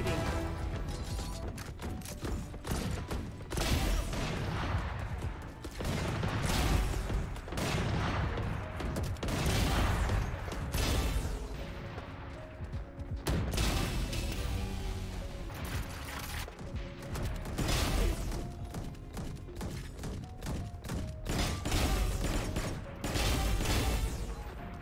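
Video game weapons fired at practice bots: sustained bursts of rapid gunshots, crisp and loud, repeating in rhythmic volleys with brief gaps across the whole stretch, no talking.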